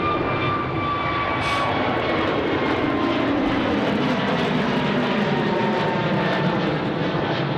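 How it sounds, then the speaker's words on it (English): Airbus A321neo airliner engines roaring steadily at Sydney Airport, a loud, continuous jet drone that holds without pause and with no talk over it. "It's the A321 Neo now."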